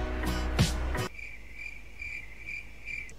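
Crickets chirp in a steady, high repeating pulse that sets in after a short burst of louder kitchen-like noise and runs on its own, fairly faint, at a regular rhythm.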